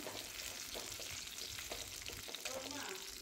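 Bitter gourd frying in oil in a pan, a constant loud hiss and crackle with occasional stirring scrapes, close and continuous throughout.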